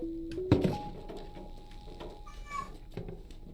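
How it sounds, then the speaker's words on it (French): A cat meows a few times at close range, short mewing calls over a quiet room with a couple of soft knocks. "Il y a mon chat qui miaule,"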